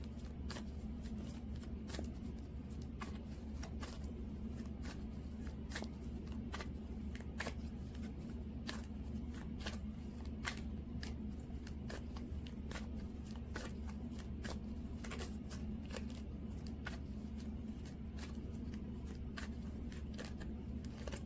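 Tarot cards being shuffled for a reading, a continuous run of close, quiet riffling flicks repeating steadily over a low room hum, with no talking.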